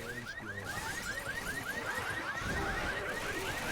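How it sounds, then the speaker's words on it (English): A car alarm in the video game Left 4 Dead 2 whoops in a fast, repeating rising chirp pattern, fairly faint and continuous behind dense game noise and clatter. "As they set off an alarm."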